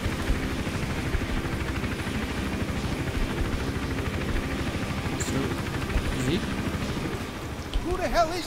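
A helicopter's rotor thumps steadily and loudly throughout in the video game Hitman: Absolution, with brief chirps and effects near the end.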